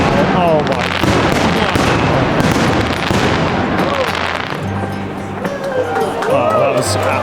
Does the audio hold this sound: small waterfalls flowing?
no